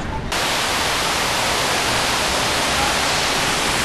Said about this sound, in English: This is starting to become a ritual for me, forming this waterfall right here.